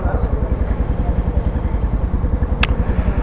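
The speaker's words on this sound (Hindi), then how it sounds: "देखो बाइक में नेपाल का फ्लैग लगा के जा रहे हैं।" Motorcycles run and pass close by at a petrol pump in Nepal, a steady loud engine rumble with pulsing idle throb and one brief clatter.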